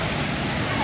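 A waterfall at Reggae Falls in St Thomas, Jamaica, gives a steady, close broadband rush of falling water that fills the whole brief moment without a break.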